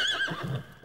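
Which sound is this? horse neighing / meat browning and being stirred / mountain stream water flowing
horse neighing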